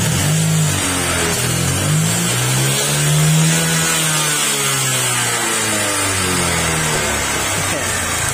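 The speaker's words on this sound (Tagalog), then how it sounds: "ito na yung pangalawang video natin sa maingay ng makina" A noisy Honda Click scooter engine that starts hard and smokes from the exhaust runs steadily nearby, its rough drone rising and falling slightly in pitch over several seconds.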